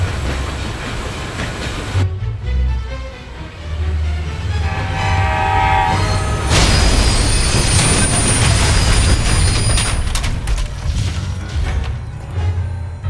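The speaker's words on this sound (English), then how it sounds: "the passing of the freight train is signaled by the closure of the level crossing barriers" A freight train passing a level crossing in the Fire Department video game, with a loud horn blast, rumbling wheels and rhythmic clickety-clack of wagons building into a close, continuous roar; no talk.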